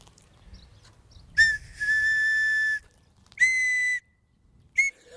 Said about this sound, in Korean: 호루라기였습니다